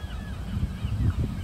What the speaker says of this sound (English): The seagulls are very loud.